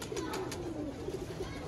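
A pigeon coos on a rooftop in the evening, a faint, soft, rolling call repeated over a couple of seconds against a quiet background.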